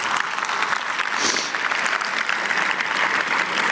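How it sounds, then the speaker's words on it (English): Audience applause at a 2024 Mount Olive High School graduation ceremony, honoring the Key Club and other student clubs; dense, steady clapping from a large crowd filling the hall, with a brief louder swell partway through. "Big round of applause for them."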